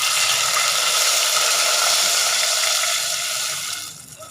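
Steady rush of water pouring into a pan of fried cashews for rice payasam, continuous and close, tapering off near the end.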